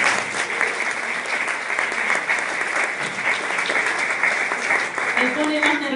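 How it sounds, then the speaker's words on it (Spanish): A church congregation claps loudly and steadily during a lively worship service in Mexico City, the dense applause filling the whole stretch, with a faint voice near the end. "Un aplauso al Señor."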